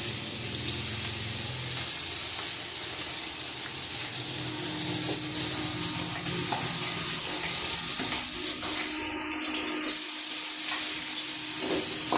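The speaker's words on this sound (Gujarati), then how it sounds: "વ્યવસ્થિત ચડી જાય પછી એમાં છે ને ડુંગળી નાખી દઈએ પહેલા." Chopped onion fries in a hot pan, a continuous loud hiss and sizzle with a brief dip near the end, no talking.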